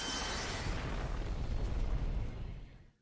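A big flashbang explosion from an animated Star Wars episode of The Bad Batch, a loud sustained roaring blast that fills the clip and then fades out.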